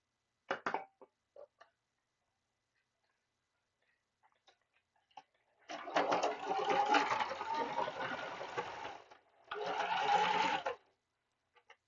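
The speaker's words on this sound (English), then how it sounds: "My sewing machine is actually pretty loud." A home sewing machine runs in two loud bursts of stitching, each a few seconds long, after scattered small clicks and taps, with quiet gaps in between.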